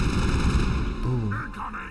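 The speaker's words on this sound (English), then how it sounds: "Oops, I didn't mean to throw a grenade though" A grenade goes off in the video game Mass Effect amid combat on Feros, a loud, continuous low rumble of blast and gunfire lasting throughout, with tonal game sounds layered over the tail.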